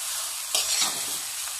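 Fried vegetables stirred into chow mein noodles in a hot pan, a steady close sizzle with a louder burst of scraping and tossing midway, no voices.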